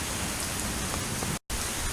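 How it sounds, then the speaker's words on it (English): Rain falls steadily and heavily outdoors near a temple, a dense hiss of drops with a brief cut to silence partway through. "the rain is coming down heavier and heavier"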